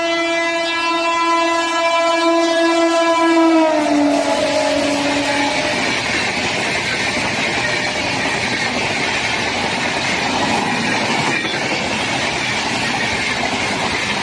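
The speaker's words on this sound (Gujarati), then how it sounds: "ટ્રેન આવી ગઈ છે" A train sounds its horn loudly, then rumbles through a station close by with steady rattling and clatter of wagons that fills the rest of the clip.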